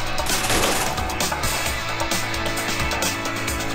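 Rapid bursts of gunfire from the video game Strike Force Heroes 3, dense and continuous, layered over game music with no talk.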